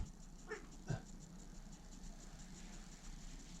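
A puppy playing with toys on the floor: faint dog whimpers and soft yips come in two brief bursts early on, then a low steady background hum with no talking.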